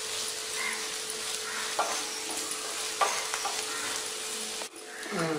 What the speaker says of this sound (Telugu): 1 నిమిషం ఇలా వేయించి అప్పుడు దించుకోవచ్చు